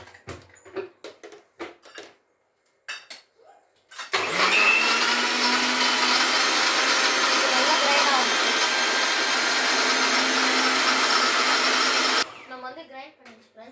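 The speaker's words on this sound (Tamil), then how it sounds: "வாங்க ஃப்ரெண்ட்ஸ், இதை நம்ம கிரைண்ட் பண்ணிக்கலாம்." After some brief talk, a mixer grinder blending palm fruit (nungu) juice roars to life, whirring loudly and steadily for about eight seconds before cutting off, and then talking resumes.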